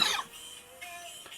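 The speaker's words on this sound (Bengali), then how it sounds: "সরি, আমার কাশি।" A single short, close cough, followed by a faint throat sound in an otherwise quiet room.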